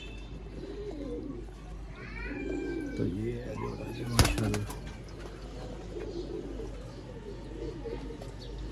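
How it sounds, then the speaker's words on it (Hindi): Soft cooing from a breeding pair of Heino pigeons sounds close by over a steady outdoor background hum, with someone speaking briefly and a sharp clatter partway through. "ये वो कबूतर है जो हर टाइम अलर्ट रहते हैं"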